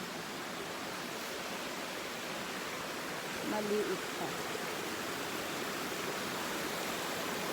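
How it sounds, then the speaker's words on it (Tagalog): Water rushes steadily in a constant broadband roar like a nearby stream, with a brief spoken remark partway through. "Mas malakas ang tubig ngayon kaysa nung nakaraan."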